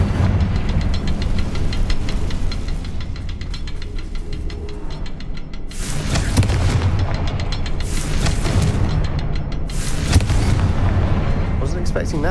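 Fire spell explosions from Confringo in the Hogwarts Legacy video game burst out as several loud, broad booms, one after another, amid a constant rumbling game mix with music and effects.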